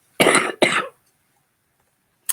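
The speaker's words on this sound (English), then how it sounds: "I seem to be having tickles in my throat for a little bit of a cough" Two sharp coughs in quick succession, close and loud, followed by silence and a brief faint noise at the end.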